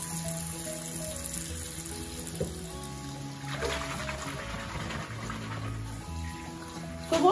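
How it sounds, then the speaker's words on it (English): Warm water running from a tap into a kitchen sink for washing up, a steady trickling flow with clinks of dishes and a louder splash near the end, no talk. "make sure that the water is nice and warm before you put the plug in"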